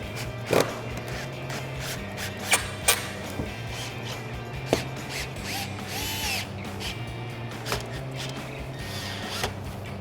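A power drill drives included panhead screws into the bottom of a Jeep Wrangler JK Bestop TrekTop NX soft top, heard as brief buzzing bursts among clicks and handling sounds at moderate distance.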